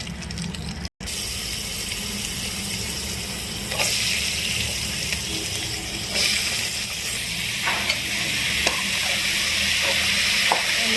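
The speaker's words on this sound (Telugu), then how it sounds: "సొరకాయ ముక్కలు వేసుకొని ఆయిల్లో మంచిగా ఫ్రై చేసుకున్నాం" Bottle gourd pieces frying in oil in a pan, a steady loud hiss and sizzle throughout with occasional faint clicks and scrapes, close and continuous with no talking.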